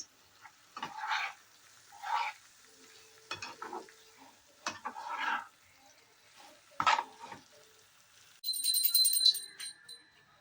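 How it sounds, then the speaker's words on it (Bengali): Paneer pieces in curry stirred and simmered in a pan: intermittent spoon scrapes and stirring bursts with soft sizzling, spaced a second or two apart, ending with a brighter clatter of metal utensils. "এই যে পনিরগুলো এবার দিয়ে দিচ্ছি একটু নেড়ে চেড়ে ফুটিয়ে ফুটিয়ে নেবো"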